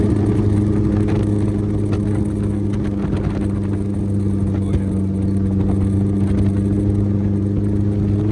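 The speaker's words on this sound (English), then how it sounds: "drive the sand rail and see how he feels" A sand rail dune buggy's engine drones at a constant steady pitch while driving on the Glamis dunes, loud and close with no pauses.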